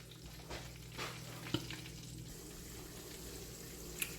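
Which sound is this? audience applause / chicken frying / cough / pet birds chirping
chicken frying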